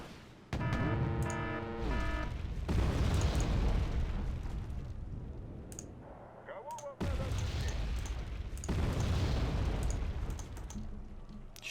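TOW missile launches from Humvees in Wargame: Red Dragon erupt as a series of loud, heavy whooshing blasts with long roaring tails, three or four big bursts separated by short gaps, a voice talking over them.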